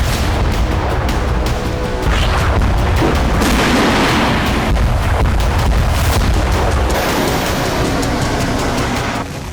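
Continuous heavy booming and blasts with rumbling, crackling gunfire from the Russia-Ukraine war, loud and dense throughout, no voices.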